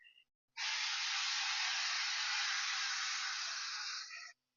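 Cooking spray hisses onto a baking tray in one steady, continuous burst of about four seconds, close and loud, starting and stopping abruptly in an otherwise quiet kitchen.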